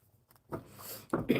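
Brief rustling bursts of a deck of playing cards being shuffled by hand, two short quiet riffles close by with a pause between them.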